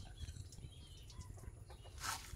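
Chickens cluck softly and peck nearby while eating catfish innards, with a brief flurry of louder squawking near the end.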